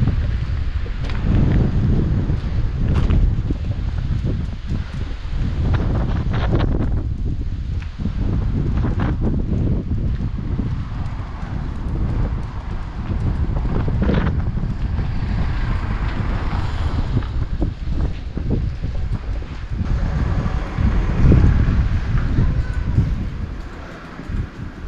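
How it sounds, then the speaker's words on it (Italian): Wind blowing through the small mountain village of Cimolais on a chilly day, a steady blustery rush with gusts and rumbling buffets on the microphone throughout, with no one speaking. "Tira un po' di vento e fa un po' freddo."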